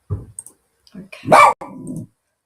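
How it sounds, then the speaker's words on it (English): A puppy barks a few short yaps and a longer, louder bark, close by and indoors. "there's my puppy."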